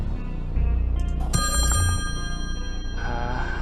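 In the Slayaway Camp eighties horror puzzle game, an electronic telephone ring sounds over a low droning game score with a sharp stinger, the ringing tones repeating clearly and fairly loud.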